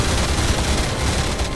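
Rapid sci-fi gunfire laid down as covering fire in a TV battle scene, a dense, loud burst of continuous shots crackling across the whole short stretch with no pauses.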